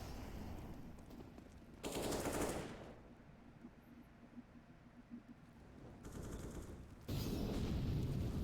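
MAC-10 submachine gun fire in a Counter-Strike match, heard as rapid automatic bursts, two short loud volleys separated by a quieter gap, with no talk over them.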